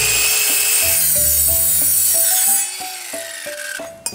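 A Takagi EARTH MAN 165 mm chip saw cutting machine cuts through wood with a loud, close, high-pitched whine, then the blade spins down and the whine fades, ending with a faint clunk.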